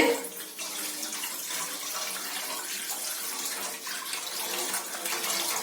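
Water runs steadily into a kadai pan for semiya puttu, a continuous close splashing pour like a tap filling a vessel, with no talk over it.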